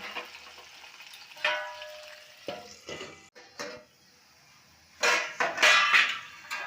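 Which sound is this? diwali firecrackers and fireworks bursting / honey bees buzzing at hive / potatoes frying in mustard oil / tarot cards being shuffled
potatoes frying in mustard oil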